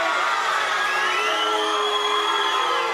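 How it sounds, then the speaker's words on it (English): A wrestling arena crowd cheers and shouts in a dense, loud, continuous roar with high whoops and whistles rising through it, no single voice standing out. "this crowd all over Future Evilution"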